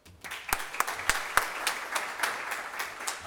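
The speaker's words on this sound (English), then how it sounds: "Ladies and gentlemen, please give an applause to Dr." An education conference audience applauds a keynote speaker with a sparse, uneven clapping that builds quickly, distinct individual claps standing out over a softer patter at moderate distance.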